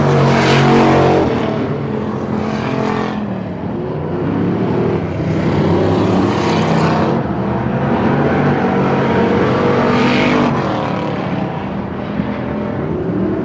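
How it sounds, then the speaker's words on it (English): Stock cars racing at the Turkey Classic on the Pearsonville, California track, with several engines roaring loud and continuous, rising and falling as cars pass close by, with no talk over them. "Both Warren Hagman and Jason Ferry putting smoke into the sky as they try and hold their race cars together"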